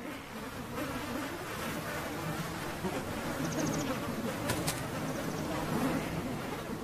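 A thick, continuous insect whine from mosquito swarms over waterlogged Alaskan tundra, holding steady at moderate loudness, with a few faint bird-like chirps overhead and no talking.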